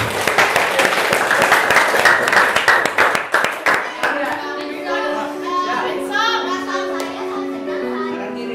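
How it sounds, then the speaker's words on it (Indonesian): Children in a classroom applaud together in a quick burst of claps for about four seconds, then children's voices and chatter follow. "tepuk tangan dulu untuk kita semua"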